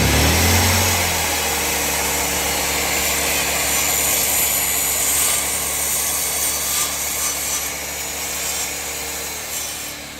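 A power saw running at full RPM and cutting through wood makes a loud, steady whine and grinding buzz, close by and continuous, easing slightly toward the end.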